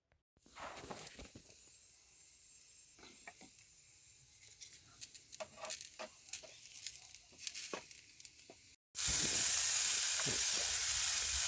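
Vegetables and black peppercorns drop into a pot for a one-pot steak and potato meal outdoors, giving soft patters and small clatters. A loud, steady sizzle of frying then takes over near the end.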